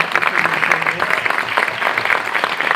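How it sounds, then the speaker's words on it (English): Applause for standing veterans at a gathering, close and loud steady clapping with some crowd murmur and a voice faintly under it. "let's have our veterans stand so we can give you all a round of applause."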